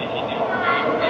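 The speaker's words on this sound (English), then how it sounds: "here comes the train coming in now" A bullet train arriving at a station platform in Wuhan, China, a steady rushing rumble with no distinct onset across the whole moment.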